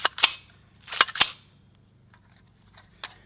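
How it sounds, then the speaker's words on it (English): An AR-15 rifle's charging handle and bolt being cycled during a torture test: three sharp metallic clacks in quick succession near the start, then two fainter clicks later, close and alone. "Cycle it a few more times."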